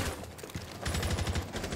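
Rapid automatic gunfire from Rainbow Six Siege on the Villa map, a quick burst of close, punchy shots near the end after a short stretch of muffled game noise.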